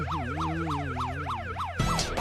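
A police siren wails in rapid rising and falling cycles, close and clear, before a sudden burst of broadband noise cuts across it near the end.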